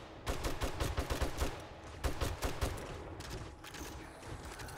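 Rapid bursts of gunfire in the zombie survival game 7 Days to Die, with repeated loud shots in quick clusters and short gaps between volleys, no talk over them.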